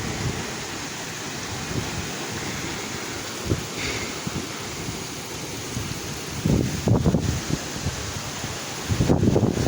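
Heavy rain during a storm outdoors in a rural Punjabi village, a dense continuous hiss with wind gusts and louder surges near the end, no talk heard.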